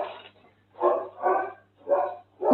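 A dog barks four times in a loose rhythm, each bark a short, fairly loud burst at a moderate distance, with a steady low hum running underneath.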